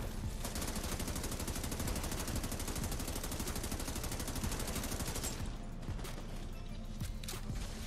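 Sustained rapid automatic gunfire in The Division 2, loud and continuous for several seconds before breaking into scattered shots near the end.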